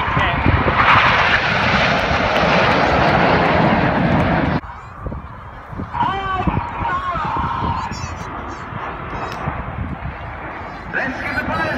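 Red Arrows display jets roar past at the Swansea air show, a loud sustained engine rush that cuts off abruptly, followed by quieter distant jet noise and crowd sounds with a commentator talking.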